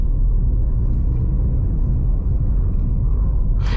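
A car running on E20 petrol pulls away from a near standstill as the clutch is released, a loud continuous low engine rumble heard from inside the cabin with a brief shift in tone near the end.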